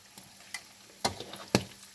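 Crispy fish frying in olive oil gives a faint hiss broken by a few sharp crackles and pops, two of them louder, heard close with no speech.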